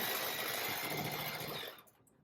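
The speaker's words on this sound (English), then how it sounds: "I'm going to sew my 1/4 inch seam" Sewing machine stitching a quarter-inch seam on quilt pieces, a close steady whirring run that stops abruptly after about two seconds.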